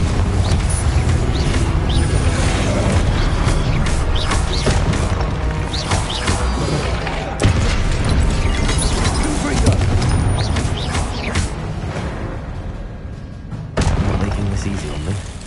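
Spell blasts from Incendio and Confringo in the Hogwarts Legacy video game, a steady run of loud booms and crashing impacts with sharp hits near the middle and the end, under shouted voices.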